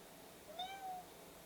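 A cat gives a single short meow, fairly faint and close, with no talk over it.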